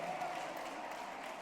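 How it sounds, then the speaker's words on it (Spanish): A church congregation applauds in a soft, even wash of clapping that sounds somewhat distant and continues steadily for a moment, with faint voices mixed into it. "Un aplauso a Jesucristo"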